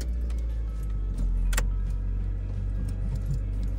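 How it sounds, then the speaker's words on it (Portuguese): A car sits with its engine running in a steady low rumble, while keys jangle close by in light metallic clinks with one sharp click partway through; no one speaks. "Liga só o carro"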